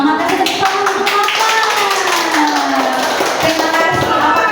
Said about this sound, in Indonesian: kasih tepuk tangan untuk Mama